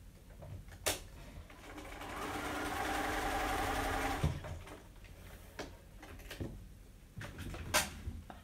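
A sewing machine stitching quilt fabric hums in a steady mechanical run for a couple of seconds, framed by sharp handling clicks and knocks of the fabric and machine before and after.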